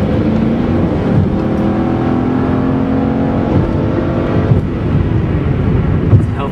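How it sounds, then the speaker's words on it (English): A Mercedes-Benz CLK500 V8 drops a gear and accelerates hard. The engine note is loud and steady throughout, a continuous rumbling drone with slight surges as it pulls. "It's a healthy sound of a V8."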